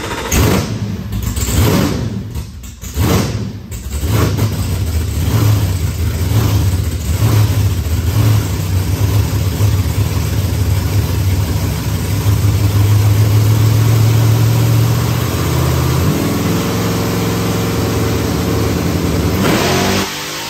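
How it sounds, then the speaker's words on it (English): A car engine revs hard on a dyno, loud and sustained, with the pitch rising steadily under load before dropping back toward idle near the end. "softened up the dyno so it'll accelerate past that now."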